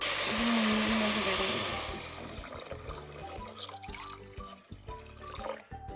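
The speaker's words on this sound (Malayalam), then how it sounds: "ഇനി വെള്ളം ഒഴിച്ചു കൊടുക്കാം." Water poured into a pot of rice for prawn biryani, a loud rushing pour at first that eases into trickling and splashing with some pot clatter.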